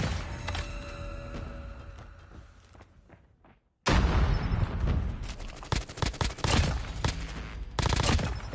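Rapid bursts of gunfire in Call of Duty Mobile, loud and dense, with a brief near-silent gap before heavy repeated shots and thuds resume, no talking.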